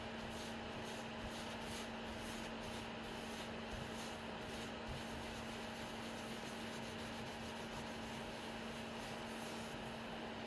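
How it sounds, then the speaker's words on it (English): Greasy tissue rubs across laser-engraved wood to wipe away soot, a steady soft scrubbing hiss with a faint constant hum underneath, close and continuous without speech. "same greasy tissue that I used in the past, just going to use that same thing to wipe out the excess"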